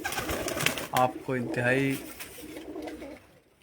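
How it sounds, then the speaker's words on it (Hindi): Flying pigeons on Malik Amir Langre Khel's rooftop coo in a few close, throaty rolling calls, with someone speaking over and between them. "ये आपके सामने मलिक आमिर लंगरे खैल के परवाज़ी कबूतर"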